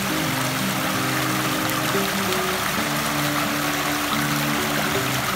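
A shallow village stream that is drying up flows in a steady, continuous rush of water with a faint underlying hum and no talking.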